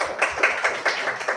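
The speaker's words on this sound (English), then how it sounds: "Can I have a round of applause" An audience at a speaking event gives a brief round of applause, heard as a handful of distinct, fairly close claps in an uneven rhythm rather than a full crowd roar.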